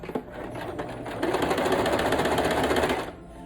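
A sewing machine stitches a washable fabric mask, a close, steady mechanical whir of rapid needle strokes running alone for a few seconds after a brief start.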